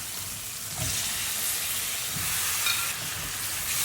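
Sliced potatoes drop one by one into hot chili masala frying in a pan for a fish, potato and green tomato curry, giving a steady close sizzle with a few soft thuds.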